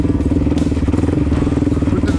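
A 2020 Suzuki DRZ400S motorcycle ridden over a rough woodland road, its single-cylinder engine thrumming loud and close in a steady pulsing rhythm, with occasional rattles and clatter over the bumps.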